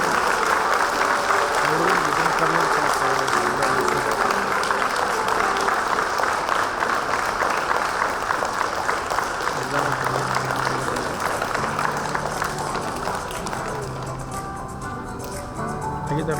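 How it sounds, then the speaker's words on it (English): At a playgroup graduation day, a crowd applauds in a dense, continuous wash of clapping, loud and sustained, easing slightly toward the end. "Give them a big round of applause."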